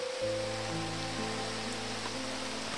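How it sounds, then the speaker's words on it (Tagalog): Heavy rain pours down in a steady, dense roar of close-up hiss that holds without a break, with a low steady hum running underneath. "Sobrang lakas talaga ng ulan."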